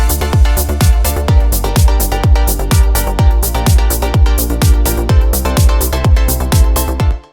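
Synth chords in a melodic house track, EQ'd with sidechain pumping, stab in a steady four-on-the-floor rhythm over a thudding kick, loud and looping until a sudden cut at the end.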